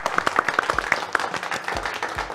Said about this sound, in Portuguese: Salva de palmas para essa vida.